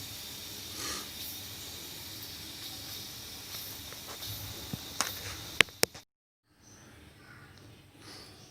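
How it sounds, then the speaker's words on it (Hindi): A pressure cooker cooking mutton karahi hisses steam steadily and loudly with a few sharp clicks and clanks, then cuts off abruptly before a quieter hiss resumes. "अब प्रेशर की सीटी बजना शुरू हो गई है।"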